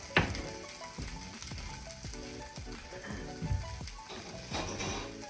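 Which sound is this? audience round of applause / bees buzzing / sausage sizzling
sausage sizzling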